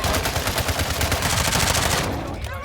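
Call of Duty Warzone 2.0 gunfire in a sustained rapid automatic burst, loud and close, with dense rattling shots that continue almost unbroken before tailing off at the end.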